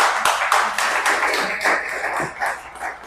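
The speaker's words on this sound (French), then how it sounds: "On peut déjà l'applaudir pour ça." A short burst of audience applause, many hands clapping in a dense, even patter that rises slightly and continues for a few seconds.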